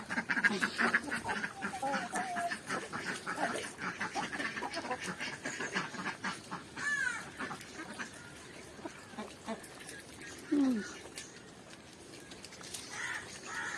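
Domestic ducks quack over and over at a moderate distance near a home poultry coop, with other bird calls mixed in and little talking.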